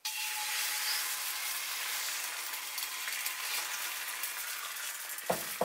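Beaten egg for an omelette sizzles steadily in an oiled frying pan, a dense close hiss that runs throughout, ending in a couple of soft knocks, with no voices.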